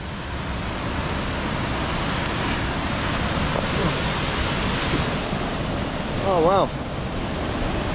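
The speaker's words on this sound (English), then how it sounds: "Oh wow, the waterfall's going right under us." Steady broadband roar of rushing water fills the scene, a waterfall in Nepal's Langtang Valley heard from close by, passing right underneath, with a brief exclamation near the end.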